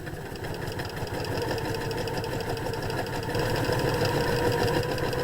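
A sewing machine doing free-motion stitching of a curly cue pattern: fast, even needle chatter runs continuously, rising slightly in speed partway through.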